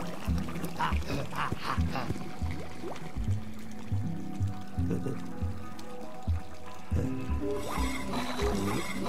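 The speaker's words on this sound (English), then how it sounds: "Now we can pump some water" A game pump pushes water along, giving repeated wet squelching and gurgling pulses in an uneven rhythm over several seconds, with a brighter rushing splash near the end; close, moderate level, no talk.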